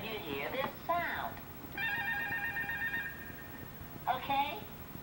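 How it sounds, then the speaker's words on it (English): A read-along record's page-turn tone sounds once as a short, bright electronic chime held about a second, set between bursts of speech at moderate volume. "That's the sound that tells you to turn the page."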